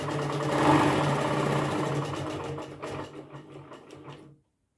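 A domestic sewing machine fitted with a Sure Start foot runs a line of stitching, a steady close mechanical whirr that slows into separate clicks before stopping.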